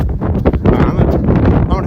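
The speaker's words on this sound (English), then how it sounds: "It's windy." Gusty wind buffets the microphone in rough, low rumbles, with a voice speaking partly underneath.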